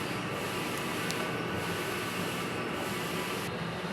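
A Smart 6ft two-head sublimation printer runs a head-clean cycle, giving a steady, close, continuous whirring hiss that holds evenly throughout with no speech.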